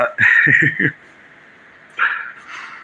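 A puppy barking at neighbors, with a rapid string of high, sharp yips followed by a pause and then another short bark, close and clear.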